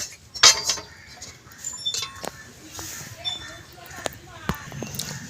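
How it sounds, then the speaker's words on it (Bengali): A metal kadai is set down on a wood-fired clay stove in a village kitchen, giving sharp metallic clinks and knocks scattered among other quiet handling sounds, while a person talks. "এদিকে আমার উনান ধরে গেছে কড়াই বসিয়ে দেব"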